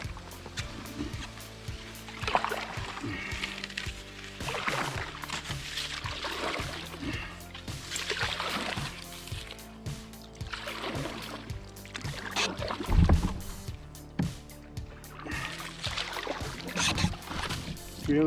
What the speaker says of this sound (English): I'll splice in a video of me paddling out of here so you can see what it looks like.